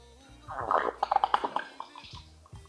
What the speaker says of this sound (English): Now I will pour some water.